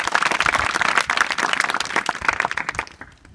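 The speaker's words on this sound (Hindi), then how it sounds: "तो इसके लिए तो जोरदार ताली बजा दो।" Students at a girls' inter college clap loudly together in a quick, dense burst of applause close by. The clapping trails off near the end.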